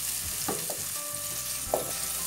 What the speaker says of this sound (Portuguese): Vou deixar dar uma refogadinha aqui.